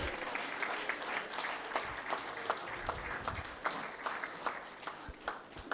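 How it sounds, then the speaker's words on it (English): An audience claps at an annual general meeting, a moderately distant, uneven patter of many hands with irregular bursts, continuing for several seconds. "Let's clap for him, please. Let's clap."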